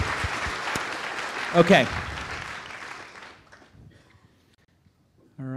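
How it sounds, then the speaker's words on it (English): Loud, dense applause from an audience at a startup pitch event fills the first three seconds, then fades to near silence, with a brief spoken word over it. "Let's give them a big round of applause."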